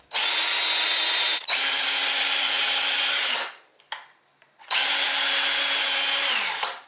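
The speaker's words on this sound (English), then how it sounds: "I'll put this drill on high." A handheld power drill on high speed spins a lead actuator in two long bursts of loud, steady whine separated by a short pause, the pitch sagging slightly as each run winds down.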